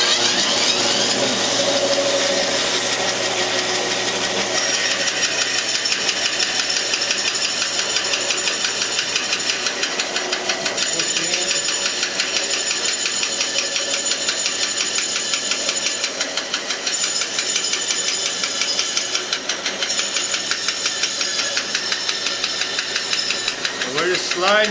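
A band saw cuts aluminum circles on a jig, giving a loud, steady mechanical drone with a constant high whine that runs unbroken throughout.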